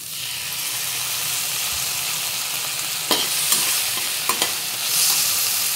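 Vinegar splashed into frying Gobi Manchurian cauliflower in a pan, a loud steady hissing sizzle with a few brief sharp spatters and clinks near the end.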